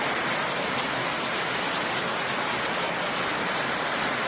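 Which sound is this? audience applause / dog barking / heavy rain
heavy rain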